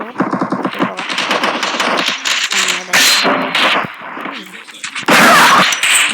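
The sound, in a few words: gun firing in a video game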